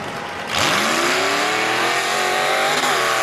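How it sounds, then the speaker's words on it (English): A little black Ford Ranger tough truck launches off the line at a rain-soaked dirt track race, its engine roaring up through the revs with a loud, rising drone that holds steady and close. "Truck sounds good coming off the line."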